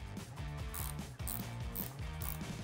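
A ratchet driving a screw into a Harley touring speaker lid: rapid, close, metallic clicking in a steady repeating rhythm, several strokes in a row with a brief pause, no voices.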